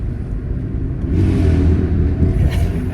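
A motor engine revving during a wheelie, a steady low rumble that swells and holds louder partway through, heard from a distance with no one talking.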